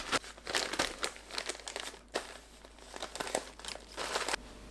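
A plastic zipper bag is handled while being filled with cooled candied ginger slices for freezing, giving soft, irregular crinkling bursts close up in a quiet room.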